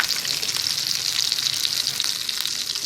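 Green chillies broken in half drop into hot oil for a rice kadhi tempering, giving a steady, bright sizzle that holds evenly throughout with no voices.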